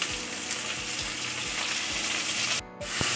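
Chicken gizzards fry in a pan with a steady, close sizzle and crackle, and a few soft stirring knocks break through the hiss.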